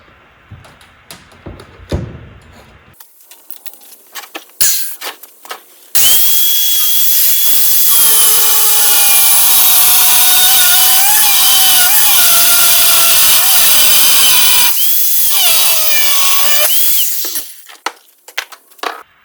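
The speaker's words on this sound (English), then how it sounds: "so we went ahead and cut the spring" A power tool cuts through a Hummer suspension coil spring, screaming loud and steady for about eleven seconds, its pitch wavering as the blade bites, with handling clatter before and after; no talking.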